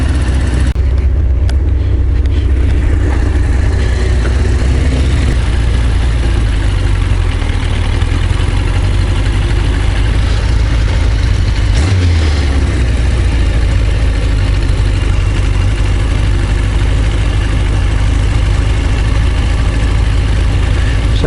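A Yamaha XJ900S Diversion motorcycle engine idles steadily and close by, a continuous low rumble with a brief dip and bump in the middle, no talking over it.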